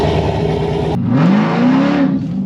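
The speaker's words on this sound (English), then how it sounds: "I got these guys wanting to hear the new exhaust." Dodge Durango Trackhawk with a built motor and new exhaust revving loudly up close, the engine note climbing and falling through a strong rev after an abrupt shift in tone, with no talking.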